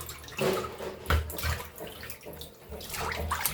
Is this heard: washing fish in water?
yes